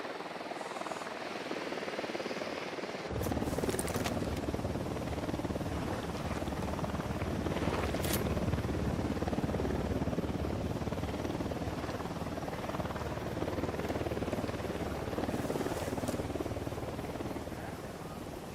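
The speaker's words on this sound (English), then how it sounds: "Unidad chopper, stay low." A Unidad helicopter flies in Ghost Recon Wildlands, its steady rotor roar swelling in and holding loud and constant for the whole stretch, with occasional sharp ticks above it.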